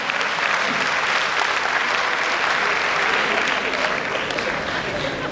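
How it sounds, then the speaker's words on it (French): Loud, sustained applause from a theatre audience at Grand Theatre, a dense even roar of clapping filling the whole stretch without pause. "On applaudit très fort."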